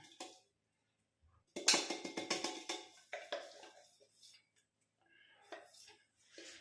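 Finely ground homemade powder for a herbal hair dye is tipped into a bowl, giving a brief run of close, soft clinks and scraping clatter of a utensil against the bowl, with short pauses between bursts.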